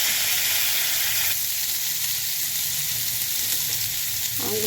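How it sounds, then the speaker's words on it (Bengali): Raw mango pieces fry in hot mustard oil in a wok, a loud, continuous close-up sizzle and hiss that holds steady throughout, with no voices. "এবার কড়াইয়ের মধ্যে সর্ষের তেল দিয়ে আমগুলোকে ছেড়ে দেব"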